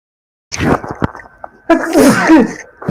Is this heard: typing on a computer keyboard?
no